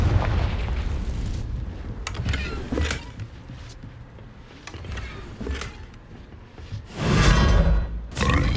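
Fiery spell explosions from the Confringo curse in the video game Hogwarts Legacy burst with booming whooshes, several loud blasts spaced over the stretch with the biggest near the end, amid game ambience.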